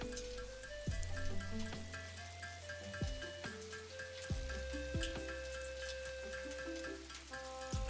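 Heavy rain in the factory-building game Satisfactory hisses faintly and steadily, pattering over a low droning hum and repeated descending tonal sweeps from in-game machinery.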